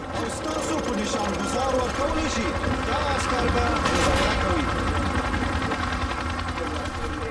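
Rapid automatic gunfire punches through a wood panel in the Call of Duty Modern Warfare 2 campaign, a dense, continuous burst of shots with mechanical clatter, fairly loud and sustained.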